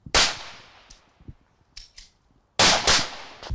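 Two loud shotgun blasts firing buckshot, each with a sharp crack and a decaying tail, separated by a quiet stretch holding a few faint clicks and thuds.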